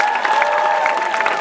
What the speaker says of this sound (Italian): Questo applauso va a Marco Dall'Ago per il suono che è arrivato a voi.